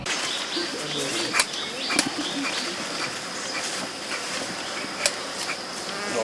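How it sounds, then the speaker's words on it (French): Honey bees buzz steadily around a hive being smoked, a dense continuous drone with occasional sharp knocks, while a voice narrates over it. "doit tout d'abord signaler sa présence aux abeilles en les enfumant"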